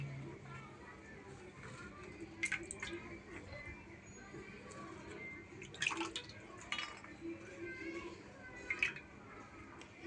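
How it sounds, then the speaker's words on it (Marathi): Finely chopped pav bhaji vegetables having their water drained, faint intermittent dripping and splashing with soft wet squishes, close but quiet, spread across the clip. "याचं पाणी काढून घ्यायचं सगळं आपण."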